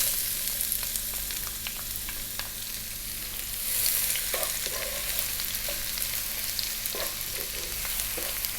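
One cup of onion sizzles in hot oil over medium heat for a fish masala, a steady dense crackle with occasional stirring scrapes and clinks from the pan.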